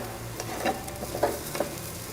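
Curry sizzles in a pan while a spoon stirs it, giving a steady frying hiss broken by several soft scraping strokes.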